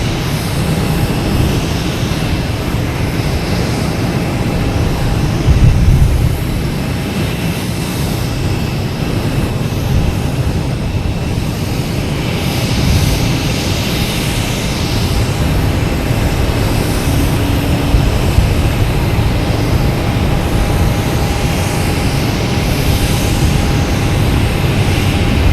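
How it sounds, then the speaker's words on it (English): A United Airlines jet departing from runway 15 Right at Boston Logan, its steady engine roar heard from a distance as a continuous broad rumble for the whole span, with no voices. "United Airlines on 15 right, taking off"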